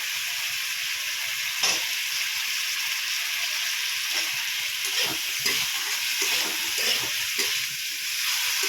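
Fried potatoes stirred into spice paste sizzling in a pan while a fish curry is cooked; a constant close hiss of frying, punctuated by occasional scraping stirs.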